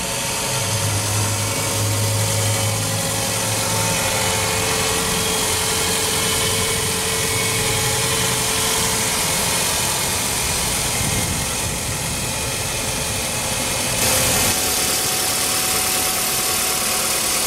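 A 2001 Toyota RAV4's 2.0-liter four-cylinder engine with variable valve timing idles steadily and close by, giving a constant hum with a low rumble and no talk.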